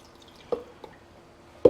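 Water poured or dripping in a few sharp, separate splashes and plops while making salsa roja, close by, with quiet between them.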